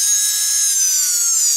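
Steady high-pitched whine of a small drill bit boring a pilot hole through a jewelry piece held on a wood block, continuous and close with no talk.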